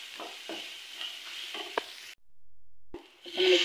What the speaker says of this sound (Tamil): நல்லா இந்த வெங்காயம் பச்சை மிளகாய் நல்லா வதங்கட்டும்